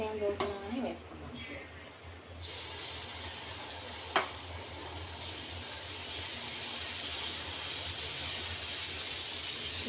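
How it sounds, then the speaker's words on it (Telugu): Poha dosa batter sizzles on a hot pan with onion rubbed over it, a steady broad hiss that holds for several seconds after a few clattering utensil sounds and a sharp tap. "ఇప్పుడు దీన్ని దోశ వేసుకుందాము"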